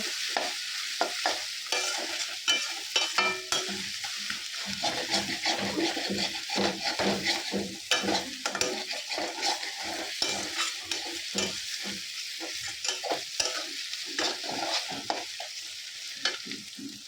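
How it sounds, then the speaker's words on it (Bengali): Eggplant frying in a pan, a continuous soft sizzle with frequent scraping stirs and small taps, close but fairly quiet, lasting throughout without speech. "এপাশে হচ্ছে বেগুনও ফ্রাই হচ্ছে।"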